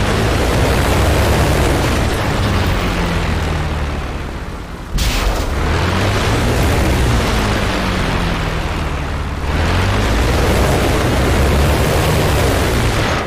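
Loud, continuous piston-engine drone of a WWII fighter plane in the DCS flight simulator, broadband and steady with rumbling low harmonics, a brief dip and cut midway, then resuming at full roar.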